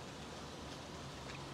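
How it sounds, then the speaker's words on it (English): Heavy rain pouring down outdoors, a dense, even hiss of steady downpour with no break and no voices. "chucking it down rain, but I thought I would go outside"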